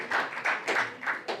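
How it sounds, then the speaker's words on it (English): An audience at a real estate book launch and dinner claps in short, loud bursts, several pulses of applause rising and falling close by, with no talk over them. "You can clap if you want to clap."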